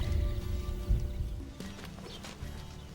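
Hooves of wild horse colts being moved along at a rescue ranch, a loose patter of thuds and clip-clops at close range, with faint shuffling and a brief higher snort-like sound partway through.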